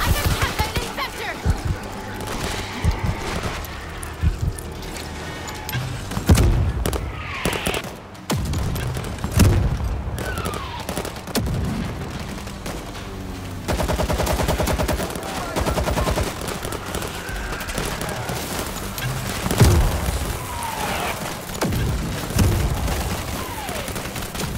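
Dense bursts of automatic gunfire and booming shots fill a zombie-shooter battle in World War Z, a near-continuous fusillade with some shouted voices mixed in.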